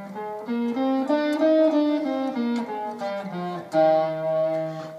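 On electric guitar, a major scale is played as a smooth run of sustained single notes, one after another. The tone is clean and close, with no talking.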